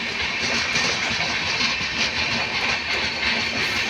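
A WAP-7 electric locomotive, number 14801, hauls an Indian passenger train at speed, giving a loud, continuous close rumble of wheels and carriages with a faint rhythmic clatter.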